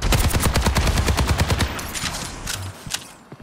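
Rapid gunfire in Overwatch 2, a loud close burst of repeated shots that tapers off into a faint tail.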